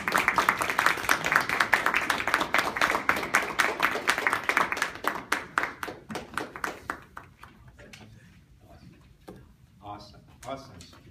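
Audience at a weekly club meeting clapping hands: a loud, dense round of applause that thins into scattered individual claps and fades to a few last slaps, with voices audible underneath.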